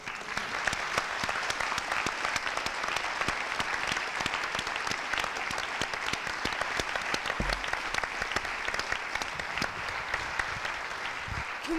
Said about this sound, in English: give our presenters, our moderator, just another round of applause